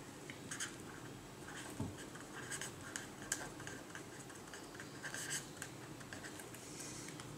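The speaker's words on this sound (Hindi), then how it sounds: "मैं मार्कर से लिख देती हूँ।" A marker squeaks and scratches over a writing surface during a calculus lesson, faint and close, with irregular short strokes across several seconds and no speech.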